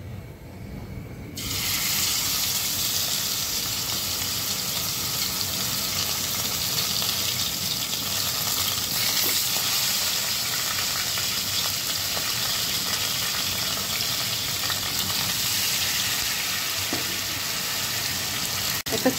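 Chicken pieces frying in a small amount of oil in a pan, a steady close broadband sizzle that runs unbroken throughout.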